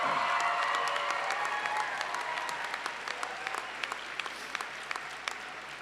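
Crowd applause for graduates at a spring commencement ceremony of an art and design college, broad and full at first, then thinning into scattered individual claps toward the end.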